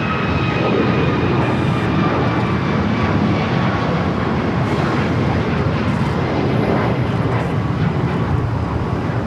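A United airliner taking off at Los Angeles International Airport, a loud continuous jet engine roar with a steady broadband rumble and faint whining tones, no talk over it.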